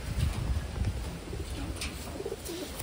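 Taiwan pigeons cooing close by, soft low rolling coos in a steady noisy ambience with no talk.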